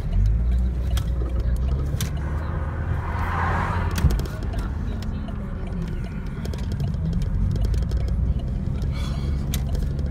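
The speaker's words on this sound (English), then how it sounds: "Oh, fuck this traffic." Interior of a car creeping through hot afternoon traffic, a steady low engine and road rumble close by, with someone talking intermittently over it.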